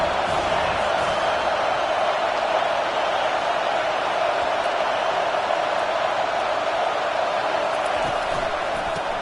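Large college football stadium crowd at Auburn during an Auburn versus Tennessee game, a dense, steady roar of cheering and noise that holds loud and constant throughout, with no clear breaks.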